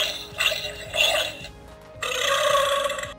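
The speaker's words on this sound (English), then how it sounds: "He ate something and then burped." A Zuru Smashers Ice Rex T-Rex toy dinosaur plays a short electronic burp, a couple of gurgling bursts followed by a longer rasping belch, close and fairly quiet.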